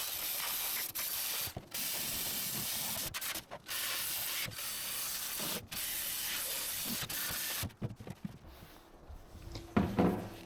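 A grinder scours dust off a metal gas tank in long, loud, abrasive bursts. Brief pauses break up the rasping hiss, and a few scraping clatters follow near the end.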